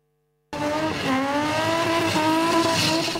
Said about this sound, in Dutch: Jaagduivels laat die bande behoorlik sing tydens hulle jaarlikse kompetisie